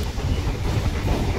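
Steady low rumble and faint rattle of a moving Kolkata Circular Railway local train on the Majherhat to Dum Dum line beside the Ganges, heard from close by with no voices.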